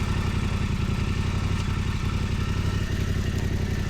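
A motorcycle engine runs steadily at close range on a Mindoro ride, a dense, continuous rumble with rapid pulsing and faint clatter, with no clear rise in revs.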